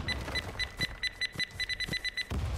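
Placed C4 explosive charges beeping in the survival game Hurtworld during a raid, a rapid run of short, bright electronic beeps, some overlapping from several charges, fairly faint with low game noise beneath.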